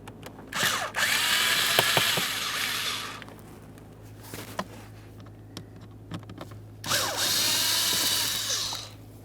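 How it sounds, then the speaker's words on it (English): Two bursts of a power driver whirring as Phillips head screws are backed out of a dash panel in a 2014-2019 Toyota Corolla, each burst loud and close with a quiet gap of scattered clicks between them. "Now that we have those screws out of there,"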